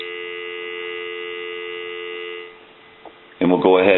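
A steady dial tone drones through the earpiece of a repaired candlestick telephone with a bell box, plugged into a regular line. It holds for about two seconds, then cuts out, followed by a click and a voice.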